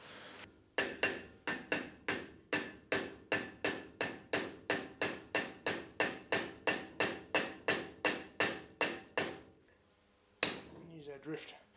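A hammer drives a drift to seat a trailer wheel bearing cup, giving a steady run of about twenty-five sharp, ringing metallic strikes at an even pace, close and loud, followed by a pause and one last hit.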